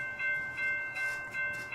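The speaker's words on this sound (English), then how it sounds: "it did look like this was a westbound container train" A westbound container train rolls through town at a crossing with the gates down. There is a steady loud rumble, a rhythmic pulsing clatter of cars passing close by, and a sustained high tonal ring from the crossing bells or wheels.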